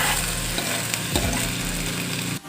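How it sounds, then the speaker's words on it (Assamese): Soaked joha rice fries in hot oil in a pan for pulao, a loud, close sizzle broken by a scraping stir partway through before cutting off abruptly near the end. "ইয়াত এতিয়া জহা চাউলখিনি দিলোঁ দি এতিয়া ভাজিম"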